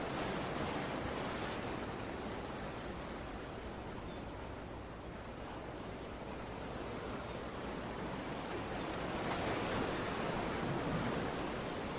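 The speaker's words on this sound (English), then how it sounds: "Feeling my oneness with the sounds of the waves." Ocean waves wash onto the shore as a continuous broad surf roar that swells and eases slowly, with no voices.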